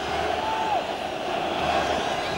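Irate stadium crowd at a Barcelona v Real Madrid football match, a dense, sustained roar of many voices with a few whistles rising above it.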